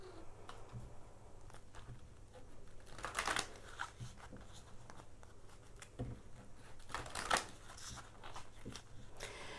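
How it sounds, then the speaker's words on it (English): A tarot deck being shuffled by hand, heard as soft, intermittent riffles and card slaps, two louder flurries standing out from a quiet, close background with no speech. "So I'm just, as I say, shuffling."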